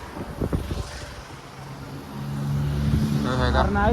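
Road traffic crawls in a rain-soaked jam, with a steady engine and road rumble that builds over the seconds and a brief horn-like tone near the end. Some wind noise is also present.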